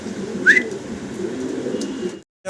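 Fancy pigeons of Andalusian and blue checker types at a seller's loft, a single short soft coo or call over a low murmur of background noise, then a sudden cut to near silence.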